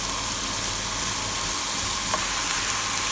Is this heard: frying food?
yes